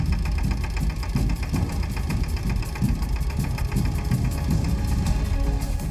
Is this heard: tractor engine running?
yes